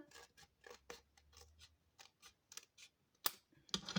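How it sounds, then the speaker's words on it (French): Scissors snip off a leftover piece of folded material in a quiet room, a series of short crisp cuts in an uneven rhythm, close and fairly faint, ending with two sharper louder snips. "Je coupe le morceau là qu'il reste"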